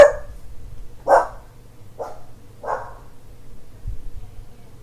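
Someone else's dog at home barks several times, four sharp separate barks spaced about a second apart, fairly close in a quiet room.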